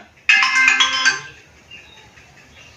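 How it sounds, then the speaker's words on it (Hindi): A mobile phone ringtone plays loudly in a short melodic burst of repeated tones, then fades into a quieter trailing tune. "मंत्री जी आपका फोन आया है"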